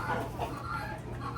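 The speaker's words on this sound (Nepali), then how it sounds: "यो चाहिँ कुखुरा फार्म" Chickens on a small farm cluck softly in a steady, busy murmur of hens, faint and somewhat distant, with no clear crowing.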